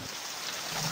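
Steady rain pours down during a storm, a dense, continuous hiss of drops on surfaces that holds close and even for under a second, with no voices.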